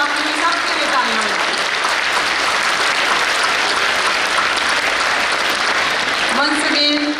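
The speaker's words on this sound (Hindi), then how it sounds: "बच्चों में आपके लिए सबके लिए तालियां।" Loud, dense audience applause at a school annual function, steady clapping for the children lasting several seconds, with a brief voice at the start and end.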